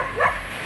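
A single short bark from a village dog greeting visitors, brief and fairly close.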